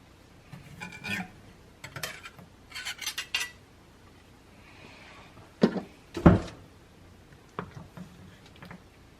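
Utensils scrape and clink against a dish while pot pie is scooped out, scattered short metallic taps and scrapes with a few louder knocks, fairly close and quiet overall.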